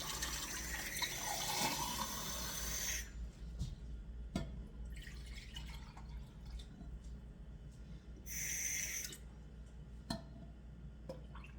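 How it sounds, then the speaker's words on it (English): Cold water running from a tap into a mixing bowl for poppy seed bread dough, a steady broadband pour for about three seconds, then a few drips and a second brief splash, with no talking. "in a bowl, we are going to add 1 1/4 cups of water, cold water"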